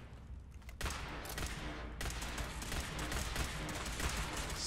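Rapid automatic gunfire from a firefight in Fallout 4 at the Arkjet Systems site, a dense and loud continuous burst that starts after a short quieter lead-in and keeps roaring with little pause.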